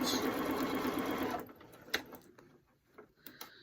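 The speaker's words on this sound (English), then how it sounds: "I'll just do a quick locking stitch" Sewing machine running a locking stitch around the opening of a mobile phone pocket, a fast steady whirr for about a second and a half, then stopping, followed by quiet clicks and handling sounds.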